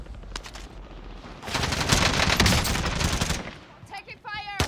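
Rapid bursts of automatic gunfire from a video game shooter, loud and dense through the middle, with a few sharper shots and clicks near the end.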